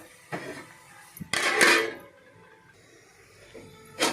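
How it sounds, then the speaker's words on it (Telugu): A metal lid set onto a cooking pot while preparing a tangy Telugu lentil fritter curry, giving a couple of short clinks and a louder clattering settle, then quiet kitchen pauses and one more faint knock at the end. "ఇప్పుడు ఒకసారి మూత పెట్టేస్తున్నాను"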